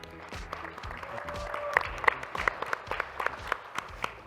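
A conference keynote panel audience claps in a brief burst of applause, scattered claps standing out close over a room murmur, thinning toward the end.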